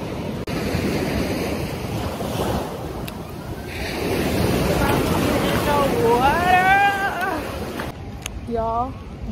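Ocean waves roll and break at a beach amid gusting wind noise, a continuous loud surf wash throughout, with faint high whistling or bird-like calls near the end.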